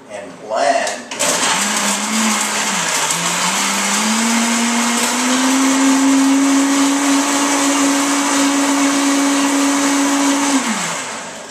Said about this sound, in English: we lost the lid to the Vitamix, so we're going to put the saucer on top and blend.